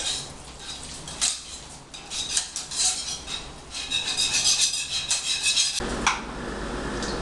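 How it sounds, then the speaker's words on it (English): A cheese mixture is stirred into macaroni pasta in a bowl, with a utensil clinking and scraping against the dish in irregular bursts, followed by a sharper knock near the end. "Mix the cheese into the mac. Stir it up a bit."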